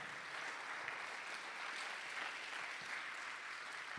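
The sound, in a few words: church congregation applause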